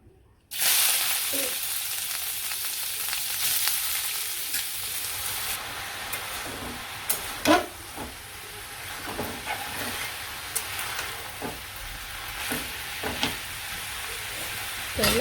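Onions and cumin seeds frying in a pan, a loud continuous sizzle close up with occasional stirring clatters throughout.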